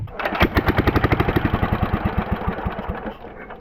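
A 1940 10hp Wisconsin motor, running on the ground, fires up and chugs in an even, rapid rhythm of close, loud mechanical pops with some clatter, holding steady before easing off at the end.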